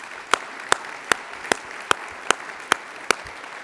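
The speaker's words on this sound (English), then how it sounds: "Give yourselves a round of applause." An inauguration audience claps in unison, eight sharp, evenly spaced beats roughly every four-tenths of a second over a low hum of room noise.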